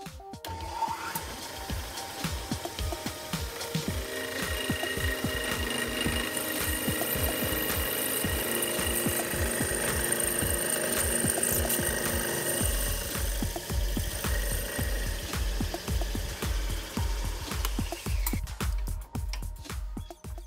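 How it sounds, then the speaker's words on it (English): Metal boring with a crude homemade boring bar on a milling machine: a steady, loud, rhythmic mechanical chatter with a whining tone runs throughout, with no talking. "It is a very crude boring bar"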